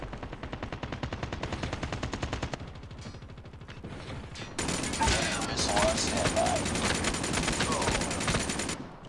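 Rapid automatic gunfire from Call of Duty Mobile gameplay, a sustained stream of shots in long bursts with a brief lull, loud and continuous over game sound effects.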